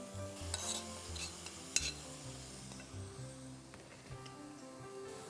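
Mutton pieces stirred into a sizzling light brown spice paste in a pan, close scraping and stirring over a soft sizzle, with a sharp clink of utensil against metal partway through.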